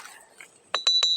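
A black jadeite stone found in a river is tapped four times in quick succession, each tap giving a sharp, bright, ringing clink. Faint rustling comes first, then the evenly spaced clinks ring out loud and close.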